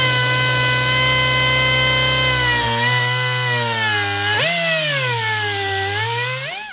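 A cutoff wheel grinding through a tape-wrapped brake line, a loud continuous high whine that drops in pitch as it bites, then wavers and rises again, close and alone.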